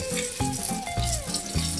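Thin salmon teriyaki fillet sizzling in a frying pan just after being flipped, a close, steady crackle with a few brief clatters of the pan, no voices.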